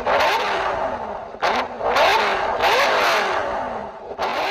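Audi C6 RS6 with a 5.0-liter twin-turbo V10 revving hard in several sharp bursts, rising and falling in pitch between quick throttle lifts, loud and close with no voices.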